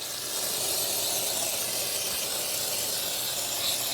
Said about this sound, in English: another light shot of AMSOIL's brake and parts cleaner